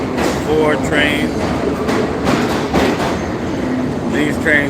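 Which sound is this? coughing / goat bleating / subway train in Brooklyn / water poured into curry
subway train in Brooklyn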